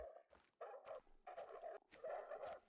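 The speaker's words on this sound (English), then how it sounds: "Ooh, I hear some wolves growling." Wolves in theHunter: Call of the Wild growl and whine in several short bursts, close and fairly faint, with brief gaps between snarls.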